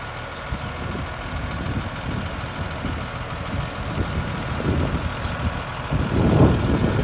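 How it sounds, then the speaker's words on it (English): A 1994 Ford LT8000 tandem axle dump truck with a 16-foot box idles with a steady diesel rumble while its single-cylinder hoist works, the engine note rising toward the end. "So there's the demo, guys, on the 1994 Ford LT8000 tandem axle dump truck"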